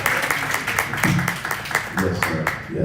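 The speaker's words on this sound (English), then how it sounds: "Please give all of these candidates a round of applause." An audience at a pastors' and wives' brunch applauds the candidates with steady, dense clapping that carries on throughout, with faint voices mixed in underneath.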